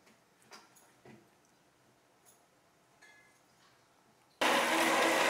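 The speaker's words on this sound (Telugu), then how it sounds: "మిక్సీ అయితే స్టార్ట్ అయిపోయింది మా" An electric mixer grinder starts up with a sudden loud, steady whir and keeps running, blending a homemade pre-workout drink; before it, a few faint clicks and taps sound in a quiet kitchen.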